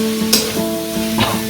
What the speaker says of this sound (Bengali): দিয়ে ভালো করে মিক্স করে নেব। আরো 5 থেকে 7 মিনিট এটাকে কষে নেব।